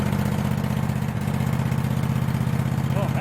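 Craftsman lawn mower engine running after a fuel filter replacement, a steady, close, rhythmic putter that holds an even idle throughout.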